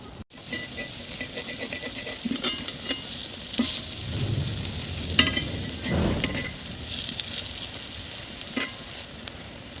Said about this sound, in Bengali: মচমচা করে ভেজে নেব।